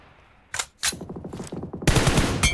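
Gunfire in the mobile battle royale game PUBG Mobile: a few sharp, loud shots in quick succession, followed by a denser burst of rapid firing near the end.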